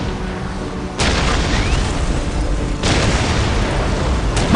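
Ork artillery pounding in Dawn of War: loud heavy booms roll in one after another, a sustained barrage with fresh impacts striking every couple of seconds and no talk over it.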